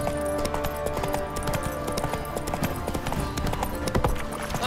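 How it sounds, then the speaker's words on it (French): A horse galloping in the video game The Witcher 3: Wild Hunt, rapid rhythmic hoofbeats loud and continuous over a steady game music and ambience bed. "Au galop, Ablette."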